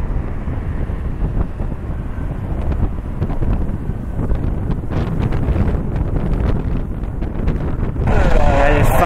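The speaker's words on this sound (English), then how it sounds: "As soon as I say that and I decide to film a departure, the wind picks up again." Strong gusting wind at Cleveland Hopkins airport buffeting the microphone, a loud continuous roar that swells toward the end, with faint aircraft noise beneath.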